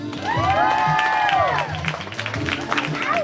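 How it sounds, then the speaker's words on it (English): Wedding guests clap and cheer at a reception just before a bride's dance with her father, a dense, steady wash of applause with rising whoops and whistle-like shouts. "let's clap it up one more time"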